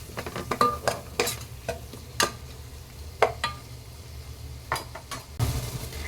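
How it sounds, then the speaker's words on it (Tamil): Coriander and turmeric powders stirred in a pan for Tamil fish kulambu, with repeated scraping spoon strokes and a low, steady sizzle close by, no talking. "இப்போ இதை நல்லா வதக்கி விட்டுடலாங்க."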